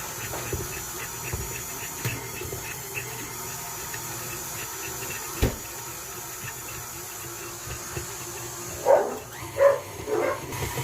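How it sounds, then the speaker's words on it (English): Dogs bark at another dog somewhere away from a kitchen where cinnamon rolls are being made. A few sharp barks come near the end over faint background kitchen noise. "Sorry if you heard the dogs barking."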